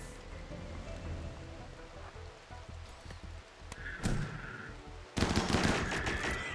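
Rapid bursts of gunfire in the colony-sim game Rimworld rattle on under a steady background drone, with a sharper, louder volley breaking out near the end.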